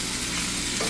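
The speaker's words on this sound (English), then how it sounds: "all we're doing here is we're just searing it" Pork tenderloin sears in a hot pan, giving off a steady, close hiss and crackle of sizzling fat with no voices over it.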